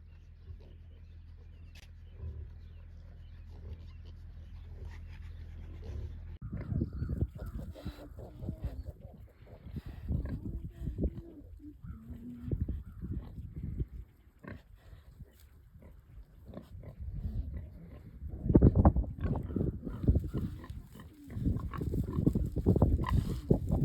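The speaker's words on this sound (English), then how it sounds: "I will put in some videos here of our pigs on the pasture" Pigs on a pasture grunt and snuffle nearby in uneven bursts. The sounds grow busier and louder after a quiet opening, with faint birds in the background.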